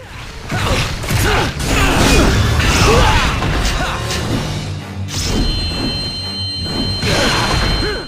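Boss fight against Vergil in Devil May Cry 3: loud, dense game combat with clashing hits, thuds and whooshing effects layered continuously over a busy soundtrack, with brief vocal sounds mixed in.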